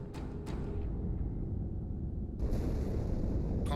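A deep, rumbling explosion in the Halo 2 video game rolls on as a continuous low roar, then swells into a brighter, louder burst partway through. No voices are heard.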